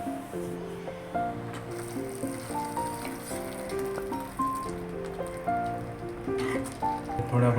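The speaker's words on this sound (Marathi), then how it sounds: "आता याच्यात आपण बटाटे घालून घेऊया." Cut potatoes drop into a hot pan while cooking a Goan oyster gravy, giving a steady frying sizzle that sits low under prominent melodic background music.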